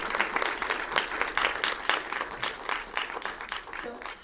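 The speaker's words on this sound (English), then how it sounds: "A round of applause again." A conference audience applauds after a keynote session, a steady dense patter of clapping from many hands filling the room, fairly loud and continuous.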